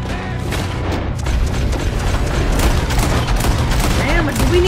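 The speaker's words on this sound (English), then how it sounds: "Do we need that many shots?" Rapid volleys of gunfire from the video game Red Dead Redemption 2, loud and dense with booming shots overlapping almost continuously, with some game voices mixed in.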